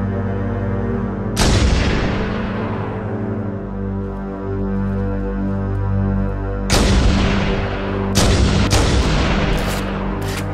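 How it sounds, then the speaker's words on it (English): Gunfire in the video game Halo: Combat Evolved: loud booming shots, one early and a cluster of several blasts later, each with a long decaying rumble over a steady game soundtrack drone. "Don't open fire until you hear the enemy return fire on us."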